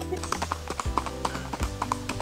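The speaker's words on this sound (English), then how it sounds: "there's a horse coming" Horse hooves clip-clopping on a road in Jamaica, a brisk irregular series of hollow knocks passing nearby, with people speaking over it.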